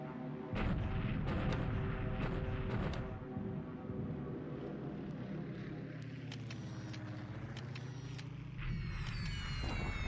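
Bombs strike a city in the War in the Pacific game, with deep rumbling booms and sharp crackling blasts early on, then a droning engine-like roar that swells again near the end.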